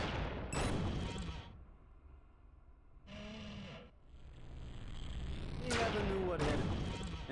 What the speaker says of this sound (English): Give the alternative fire a try. It builds up a charge and then releases a bigger blast.